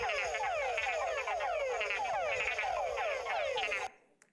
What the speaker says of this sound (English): what these frogs do is the males come to these breeding pools and they form choruses and they call for females